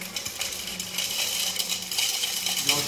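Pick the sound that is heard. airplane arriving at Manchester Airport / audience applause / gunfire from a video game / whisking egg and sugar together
whisking egg and sugar together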